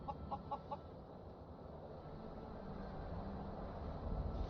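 A chicken in the Skyrim video game gives a quick run of about four short clucks at the start, then goes quiet under a steady hum of game ambience.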